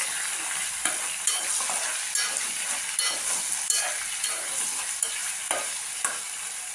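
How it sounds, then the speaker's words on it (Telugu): Chicken pieces fry in a hot pan with a constant bright sizzle, while a utensil stirs them in regular strokes that land as sharp scraping clicks every second or so, close and alone without speech. "చికెన్ మంచిగా గోలింది ఫ్రెండ్స్"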